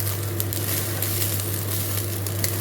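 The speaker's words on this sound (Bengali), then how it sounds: "চটপট আওয়াজ হচ্ছে, তার মধ্যে দুটো একটা ফটফট আওয়াজ হবে, মানে চালটা ফুটতে শুরু করেছে" Rice frying in a pan for basanti pulao, a continuous crackling sizzle with occasional sharper pops over a steady low hum, fairly close and without speech.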